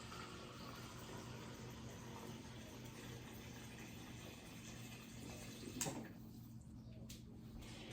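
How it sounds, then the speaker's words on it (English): Water pours steadily into a pot of quinoa for several seconds, a continuous splashing rush that stops abruptly near the end. "so I'm going to add a little bit more than a cup of water."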